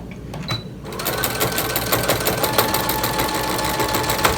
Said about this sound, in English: We're just going to sew down.